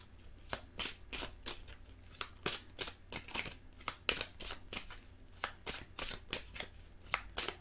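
Tarot cards are shuffled and cut by hand in a quiet room, giving a rapid series of crisp riffling bursts at an even, repeated rhythm. They sound close and moderately loud, with no talking.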